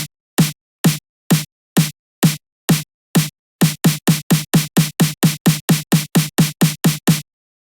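An 8-bar music loop plays in FL Studio as a series of sharp, percussive hits, sparse at first and then quickening into a rapid, evenly spaced run before stopping, heard alone and fairly loud.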